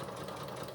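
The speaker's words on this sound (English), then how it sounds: "we're just going to stitch around 1/4 inch seam allowance" A sewing machine runs a 1/4 inch seam on a dress, giving a brief, steady, fast mechanical whir of stitching with no talk over it.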